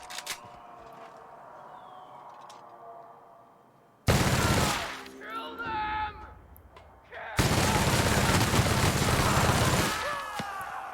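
A minigun loaded with electrical ammo fires in The Outer Worlds, two sustained roaring bursts of rapid fire after a quiet stretch, the first about three seconds long and the second a little longer, loud and close.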